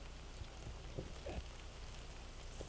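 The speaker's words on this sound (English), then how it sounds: "It must be starting to get some pretty heavy rains." Heavy rain falls on a golf course as a faint, steady hiss with scattered soft drop patters, distant and low in level, with no talk.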